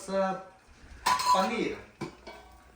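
Dishes clink and rattle as a plate is pulled from a stack in a home kitchen, the clatter arriving in a few short bursts amid room noise and voices.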